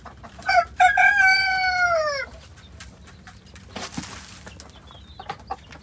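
A rooster gives one long, loud cock-a-doodle-doo close by in a chicken coop, followed by scattered softer clucks and rustling among the hens.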